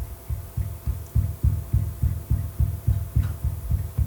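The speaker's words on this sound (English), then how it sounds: "That's just his thumb hitting the bottom of that screw to show you how much sound transmission there is through from the screw into that timber." A thumb tapping the bottom of a long screw, the knocks carried through the timber it is driven into: a steady run of about fourteen dull, low, muffled thuds in an even rhythm, fairly quiet over a faint hum.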